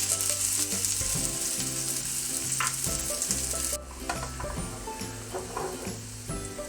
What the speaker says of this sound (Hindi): इसमें मैं ये एक दरमियाने साइज़ की कटी हुई प्याज डाल दूंगा।